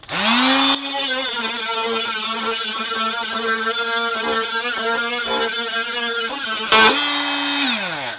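An oscillating multi-tool plunge cutting into a piece of wood gives a loud, steady buzzing whine that starts abruptly, holds for about seven seconds with slight wavering under load, then winds down and stops.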